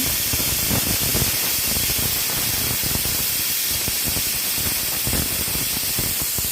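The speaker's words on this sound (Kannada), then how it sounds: "ಎರಡು ಸಲ ವಿಷಲ್ ಕೂಗಿಸ್ತೀನಿ" A pressure cooker cooking tamarind in hot water lets out a loud, continuous steam hiss up close, steady without a break for the whole stretch.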